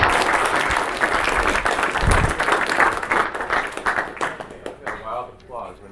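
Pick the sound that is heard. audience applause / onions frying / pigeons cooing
audience applause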